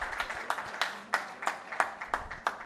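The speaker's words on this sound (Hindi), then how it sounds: "जोरदार तालियां बजाकर स्वागत करें।" Guests at a Dewas ceremony honouring Covid workers being welcomed with applause: scattered, sharp individual claps ringing out irregularly, fairly close, a modest group rather than a roaring crowd.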